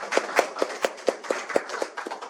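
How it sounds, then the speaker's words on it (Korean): Claps from a small audience at a Korean civic lecture event, about ten sharp hand claps in an uneven rhythm, fairly close and moderately loud with no talking over them. "우리 그분들한테 박수 한번 드릴게요"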